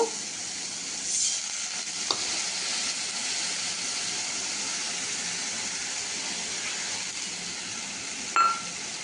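Steady sizzling of spices frying in a hot kadai, with a couple of brief clinks from stirring.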